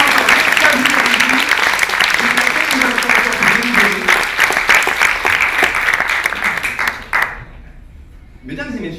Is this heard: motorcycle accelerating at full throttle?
no